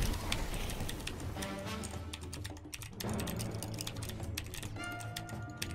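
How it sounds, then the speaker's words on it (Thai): Rapid, dense keystrokes on a computer keyboard during a Blox Fruits match, clattering continuously and close up over game sounds with no pauses. "มึงใช้คีย์บอร์ดรุ่นไรวะทำไมมันกดเร็วจังแน"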